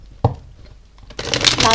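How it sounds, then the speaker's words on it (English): Tarot cards riffle-shuffled in a single burst, with a sharp tap at the deck first, then a loud rapid flutter of cards close by. "One more shuffle."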